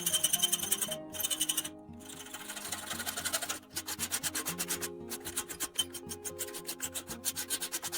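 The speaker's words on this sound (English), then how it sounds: "This process uses grinding to proceed with the honing slowly and completely by hand." A metal part from a 1940s Marx Seversky P-35 toy fighter airplane is ground and honed by hand, giving steady close rasping and rubbing strokes in a continuous rhythmic scrape with no talk.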